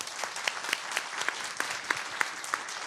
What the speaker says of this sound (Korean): 아낌없는 박수를 드립니다